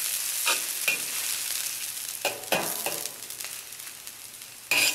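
Noodles being stirred in a hot wok with peanut oil after the heat is turned off, giving a soft sizzle broken by several sharp scraping strokes at irregular intervals, with no voices.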